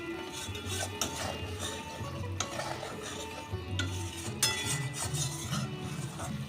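Ground cumin, turmeric and Kashmiri chili powder fry in oil while a spoon scrapes and stirs the pan, producing a soft continuous sizzle punctuated by repeated metallic clinks and scrapes, fairly quiet and close.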